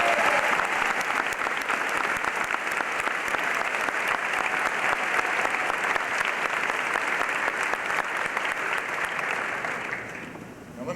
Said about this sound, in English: perhaps we can applaud one more time